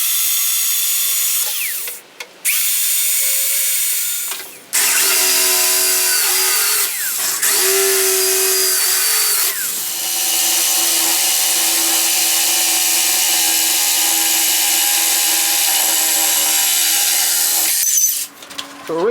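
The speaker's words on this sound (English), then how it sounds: "So I'm going to drill some holes in here, drop my body saw in here, cut out these holes" An electric drill and a body saw work through a mounting plate for a C10 Chevrolet truck dashboard, loud and close, with short drill bursts separated by pauses and then a long continuous sawing run before a brief stop.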